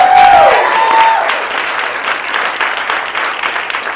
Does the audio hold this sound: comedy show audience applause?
yes